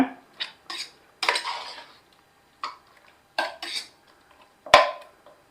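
A utensil scrapes and knocks against a pot while mutton biryani masala is stirred, in irregular sharp clinks and scrapes with quiet gaps between them. The sound is close and carries no speech.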